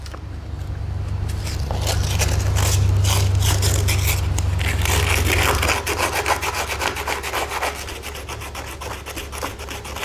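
Sandpaper of 80 grit rasps steadily back and forth across a surface on a Manx dune buggy, a close, continuous coarse scraping with a low hum underneath.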